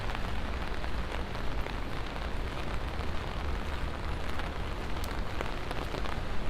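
Steady rain falls on a Midtown Manhattan street at night, a constant dense patter on wet pavement with scattered louder drops and a low city rumble beneath.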